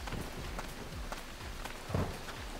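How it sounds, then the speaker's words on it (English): Steady rain in the survival video game Stranded 2, an even wash of falling drops with a few soft thumps, moderately quiet and alone. "Sure wish it would stop raining."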